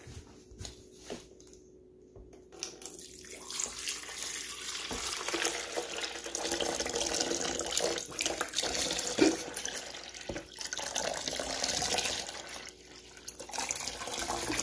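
Water pours steadily into a container, a continuous splashing rush that swells after a few quiet seconds and keeps running, fairly close.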